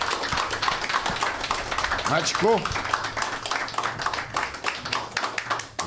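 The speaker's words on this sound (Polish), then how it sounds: "Jakie brawa, moi drodzy." An audience at a live podcast recording claps steadily in a continuous patter of applause beneath someone speaking.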